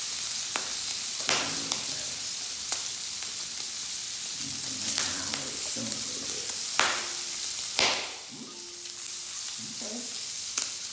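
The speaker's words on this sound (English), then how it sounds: "You put the bacon in, and you let the bacon kind of cook up and fry up" Hickory smoked bacon with the rind on frying in a pan, a continuous close crackling sizzle with occasional sharper pops and stirring scrapes, while a voice talks faintly at times underneath.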